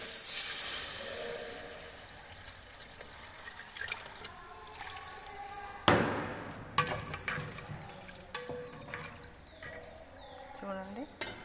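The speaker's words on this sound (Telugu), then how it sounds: "ఇప్పుడు చింతపండు మొగ్గు పోసుకోవాలి." Tamarind water poured into a hot pan while cooking ulavacharu, a broad hiss and liquid trickle that bursts louder partway through and then simmers on, with a voice talking quietly beneath it.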